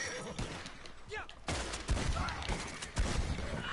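A horse whinnies in the Red Dead Redemption 2 video game, a rising and falling neigh heard amid bursts of gunfire, with someone talking over the game sounds.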